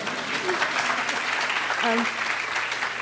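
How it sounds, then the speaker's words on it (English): An audience claps steadily throughout, a dense wash of applause with a few brief voices rising over it. "Yeah, you may applaud."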